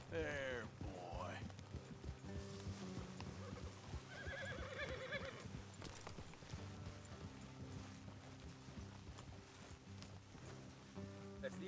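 Horses whinny and neigh in a video game, with a loud neigh at the start and another partway through, over clip-clop hooves and low ambient game sound.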